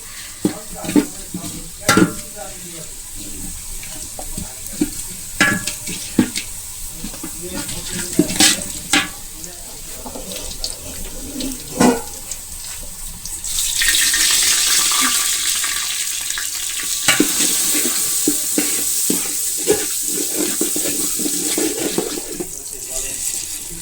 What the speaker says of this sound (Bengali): এখন এবার এটা সুন্দর মতো ভেজে নিব